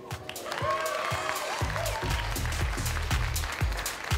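Audience at the Miss Universe Singapore 2014 pageant breaks into applause as judges are introduced, clapping swelling after a brief spoken moment and continuing steadily, moderately loud.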